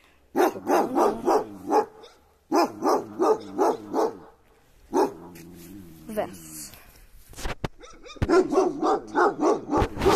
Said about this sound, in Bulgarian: Не да лаеш, кученце.